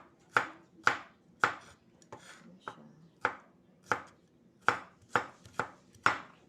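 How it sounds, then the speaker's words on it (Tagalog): A knife chopping ingredients for fish escabeche on a cutting board, about a dozen sharp, close knocks at an uneven steady pace, with quiet pauses between them. "So, hiwain ko muna yung mga ingredients ko."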